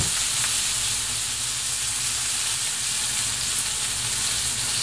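Chive- and green-onion-wrapped yakitori fry in a covered pan, giving a continuous, loud, even sizzle and hiss throughout with no voices.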